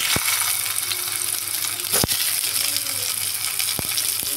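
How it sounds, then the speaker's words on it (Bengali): Potatoes and eggs fry in two spoons of mustard oil in a kadai, giving a steady close sizzle broken by a few sharp stirring clicks and scrapes. "এবার ওই তেলে আমি আলু আর ডিমগুলো ভেজে নিচ্ছি"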